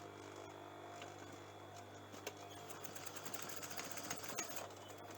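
A sewing machine back-tacks over a zip on denim jean shorts. It makes a faint, steady motor hum with a rapid run of stitching clicks that grows busier toward the end, set in a quiet room.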